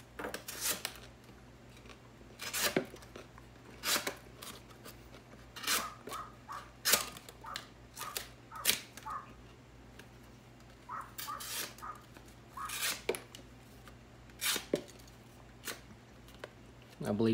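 Buck 110 Slim folding knife slicing through paper, a run of short crisp rasping cuts in irregular bursts, close and fairly quiet, with low background hum and occasional talk.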